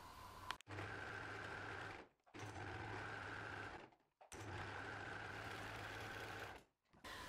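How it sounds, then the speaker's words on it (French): A serger overlock machine stitches a fabric seam while sewing loose harem trousers, running in three steady whirring bursts separated by brief pauses, close and clear with no talk. "je vais utiliser la surjeteuse"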